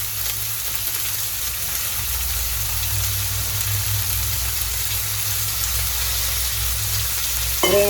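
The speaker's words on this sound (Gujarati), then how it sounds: "હા તેલ આવી ગયું છે રાઈ નાખી દીધી છે" Mustard seeds sizzle and crackle in hot oil in a home kitchen, giving a steady frying hiss over a low background hum, with a sharper clatter at the very end.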